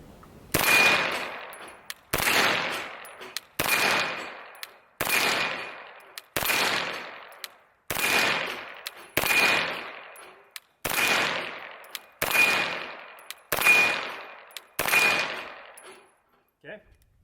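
A Scorpion Evo FDE fires about ten loud, close shots at an even pace of roughly one every second and a half. Each crack is followed by a short ringing decay before the next.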